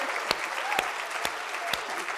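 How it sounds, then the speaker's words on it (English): A lecture audience applauds to welcome speaker Alice Waters, with steady clapping and a few louder individual claps standing out. "So let's all applaud her for coming."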